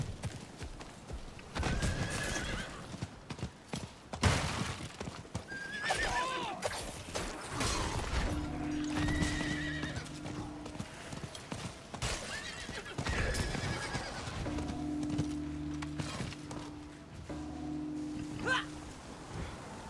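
Horse neighing and hooves clip-clopping in the video game Diablo IV, with several whinnies over steady hoof beats and mechanical game sounds, no talking.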